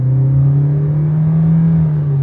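A loud car engine drones at close range with a deep, steady roar that barely changes in pitch. No voices are heard.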